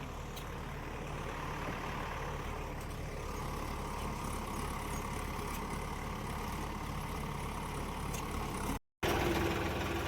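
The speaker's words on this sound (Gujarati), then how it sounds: "જીસીબી ટ્રેક્ટર માંડી દીધા છે." Heavy engines of a JCB and a tractor run steadily at a construction site where soil is being filled, a continuous low drone at moderate distance with a brief gap near the end and no voices.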